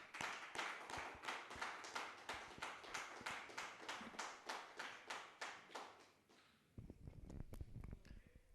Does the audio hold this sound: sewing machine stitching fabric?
no